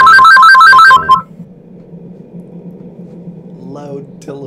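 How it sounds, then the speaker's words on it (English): Electronic telephone ring from the video game Undertale, a loud warbling ringtone pulsing in quick bursts for about a second before cutting off, leaving quiet background hum and faint sounds. "Loud telephone noises."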